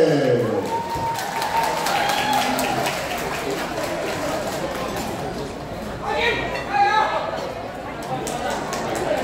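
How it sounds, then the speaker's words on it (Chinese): An audience claps to welcome dancers at a ballroom dance show featuring foxtrot, paso doble and tango, a broad patter of applause under a loud announcer's voice, swelling again near the end. "热烈掌声欢迎"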